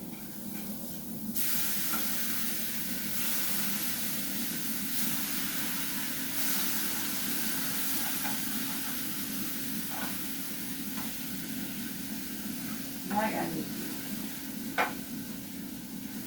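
Sausage frying in a pan on a home stove for breakfast gives a steady broadband sizzle throughout, with a couple of brief louder pops near the end and no talking.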